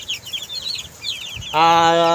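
Backyard chickens clucking in quick, chattering bursts up close, followed by a sustained loud rooster-like call at the end.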